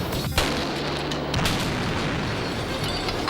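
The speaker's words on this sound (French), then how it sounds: "deux jeunes Mythbusters faisaient leur gamme en faisant exploser un trombone" A trombone packed with firecrackers blows apart in an explosive test, giving a sharp crack followed by a dense, roaring wash of blast noise and debris that lingers loudly.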